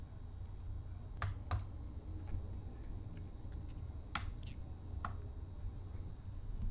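A computer keyboard is tapped with a handful of sparse, close keystrokes over a steady low room hum, while a command is entered on an Ubuntu 18.04 machine.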